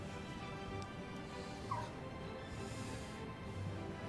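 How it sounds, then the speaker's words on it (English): A pet dog gives a brief, faint whimper partway through, heard softly in a quiet room under a low steady background hum. "And my dog wants in."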